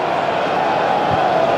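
A huge crowd of about 75,500 at a Manchester United vs Sunderland football match makes a dense, continuous roar that fills the stadium evenly and stays loud and unbroken.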